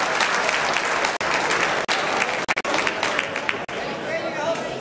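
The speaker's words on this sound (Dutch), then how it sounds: "Geef een groot applaus aan de vechters" A crowd applauds loudly and steadily after a fight, dense clapping filling the space with a few brief breaks and voices mixed into the noise.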